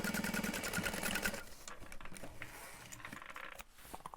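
A sewing machine stitches straight across a folded bag panel while making a Valora bag, a close, steady run of fast needle strokes for just over a second before it stops and the room goes quiet.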